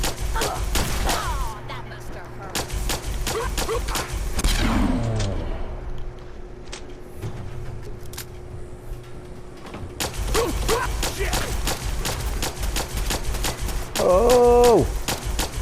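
Gunshots from a modded gun in the post-apocalyptic shooter Fallout 4, several sharp cracks in quick bursts at the start and again later, separated by a quieter stretch with a steady hum and a short clattering sound.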